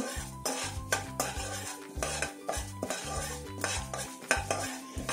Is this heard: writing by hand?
no